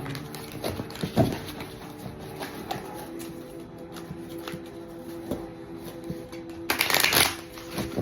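Tarot cards being shuffled by hand, a series of close riffles and soft slaps with a louder, longer riffle near the end, and no talking.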